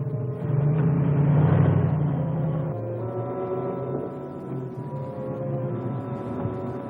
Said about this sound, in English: there is a car coming